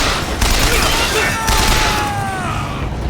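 Enemy gunfire in BioShock Infinite: rapid volleys of shots with booming impacts and mechanical clatter in a busy combat scene, a ringing whistle trailing through, while a voice shouts over the fighting.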